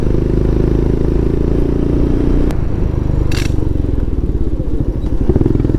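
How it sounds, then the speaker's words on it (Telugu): A loaded motorcycle touring near Pokhara, Nepal, drones steadily at close range while its silencer scrapes the ground, adding harsh grinding, clattering scrapes and a brief sharp burst partway through. "సైలెన్సర్ అయితే కింద తాకింది."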